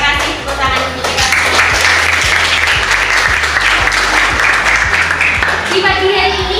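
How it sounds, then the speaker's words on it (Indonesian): Sustained, loud applause from a morning school audience, dense steady clapping filling the room with rhythmic claps underneath, while a voice carries over it. "Terima kasih tepuk tangan untuk kita."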